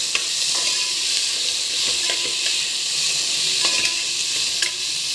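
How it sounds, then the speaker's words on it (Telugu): Tomatoes fry with fenugreek leaves in a pan, giving a steady, bright sizzle with scattered crackles and soft stirring scrapes, close and continuous with no talk. "ఇప్పుడు టమాటోస్, టమాటోస్ కూడా వేగనిద్దాం."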